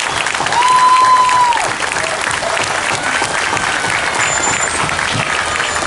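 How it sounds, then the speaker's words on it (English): An audience claps steadily at a year-in-review show, a dense round of applause holding at full strength throughout, with faint tones over the crowd. "Let's give Karen and her family a big round of applause."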